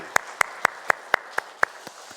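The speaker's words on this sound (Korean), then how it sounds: "하나님 앞에 영광의 박수 올려드리겠습니다." A congregation claps during a Korean Sunday church service: eight evenly spaced, sharp claps in a steady rhythm at moderate volume, with no talk over them.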